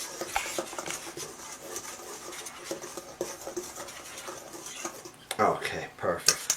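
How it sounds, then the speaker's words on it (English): A whisk scrapes and clinks around a bowl of dry ingredients for strawberry bread, a soft steady rubbing rhythm that grows louder with sharp metallic taps near the end. "Take a whisk, mix that around really well."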